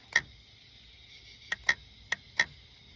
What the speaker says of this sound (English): that's the solenoid going in and out, and it does something with the transmission fluid